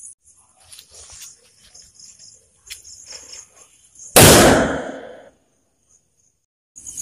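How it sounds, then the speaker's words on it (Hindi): A bullet bomb firecracker explodes during a Diwali sound test, one sharp, loud blast followed by a decaying crackle and rumble, with faint background noises before it and near silence after. "अब हम इस बुलेट बम को ट्राई करते हैं और देखते हैं कि इसका साउंड कैसा है"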